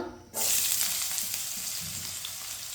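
Finely chopped onion hits oil reused from frying chicken and bursts into a loud, steady sizzle that holds on without letup, after a brief quieter moment at the start.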